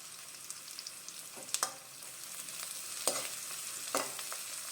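Green chillies and curry leaves fry in a pan for gobi rice, giving a steady broadband sizzle with a few sharp crackles and spatula scrapes scattered through, fairly close and unaccompanied by talk.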